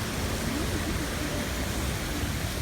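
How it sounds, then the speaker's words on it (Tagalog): A small forest waterfall gives a steady, close rush of falling water, broadband and even for a few seconds. "Meron ding maliit na waterfall sa madadaanan natin."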